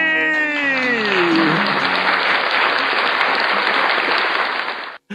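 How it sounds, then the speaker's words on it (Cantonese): Loud, dense audience applause at a stand-up comedy show that swells in right after a held sung or spoken note, then continues steadily and ends abruptly. "明年後嫁，掌聲鼓勵"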